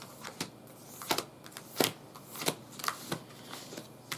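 A deck of cards is shuffled up close, with quick riffles and crisp snaps repeating at an uneven rhythm against a quiet room.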